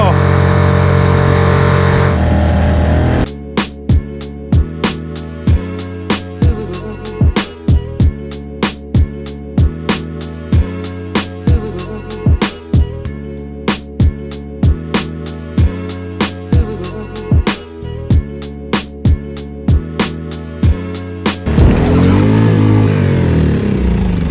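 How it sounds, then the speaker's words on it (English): A Kuda 2.6 HP four-stroke outboard motor pushes a kayak across the water, a steady, loud droning hum broken by regular slaps from the hull hitting waves, before the engine note eases off at the end. "Definitely the fastest motor I've had on a kayak."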